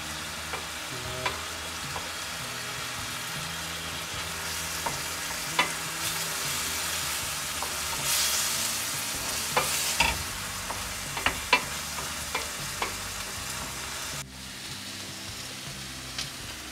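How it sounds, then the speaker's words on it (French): Shallots caramelizing with butter, pepper and salt in a pan, a steady sizzle with frequent stirring scrapes and taps close up, ending in a quieter fry. "Et je laisse caraméliser. Et je rajoute un peu de poivre, le sel et le petit morceau de beurre."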